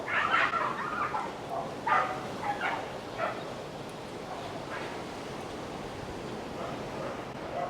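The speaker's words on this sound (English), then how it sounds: "There's some dogs fighting down there." Several dogs fight and bark down below in the distance, sharp yaps and snarls in short bursts during the first few seconds, then fading into a steady wash of rain-soaked background noise.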